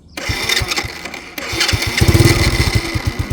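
A Honda Super Cub-style motorcycle fitted with an imported Japanese Cubby exhaust is kicked over, catches and settles into a loud, close, steady chugging idle.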